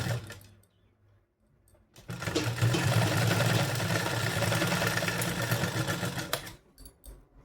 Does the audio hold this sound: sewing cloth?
yes